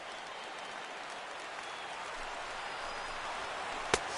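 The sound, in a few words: stadium crowd cheering in video game MLB 16 The Show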